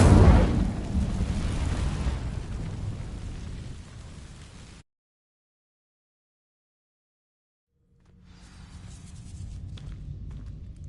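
Incendio fire spell from Hogwarts Legacy catching dry vines: a loud whooshing roar of flame that slowly fades, cuts to silence, then a softer crackling burn returns.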